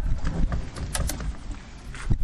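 A small boat runs fast over choppy water at about 40 knots, with steady broadband rushing, wind buffeting and irregular thumps as the hull slaps the waves, fairly close and continuous.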